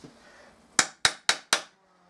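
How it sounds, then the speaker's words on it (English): A hammer strikes a centre punch on metal four times in quick succession, each a sharp, close, ringing clank with a fast decay, while the workshop is otherwise quiet. "Centre punch it first to put a little mark in it so you can drill it."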